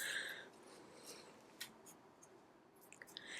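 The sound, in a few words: scissors cutting paper for a gift box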